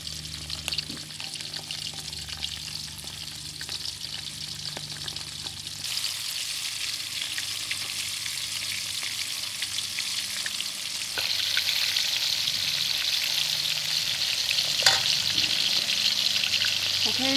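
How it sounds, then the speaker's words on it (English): Pork chops deep frying in hot oil give a steady, dense sizzle and bubbling that swells louder in the later part, with no talking over it. "you deep fry it until they turn golden brown"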